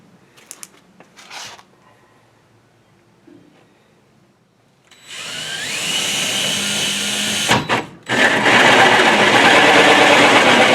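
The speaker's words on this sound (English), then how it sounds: "Got my cordless drill." A cordless drill whirs up and runs steadily for several seconds, pitch rising as it bites, after a few quiet clicks and handling sounds, while working on an air compressor.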